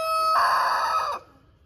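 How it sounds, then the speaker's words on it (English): A homestead rooster crows once nearby, a loud, drawn-out call that rises and holds for about a second before cutting off into quiet. "you got one hen and one rooster outside"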